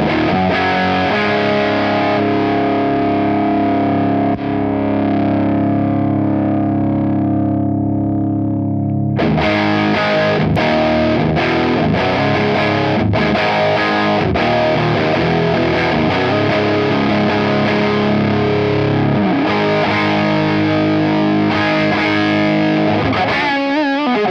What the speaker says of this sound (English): That's a thick distortion sound.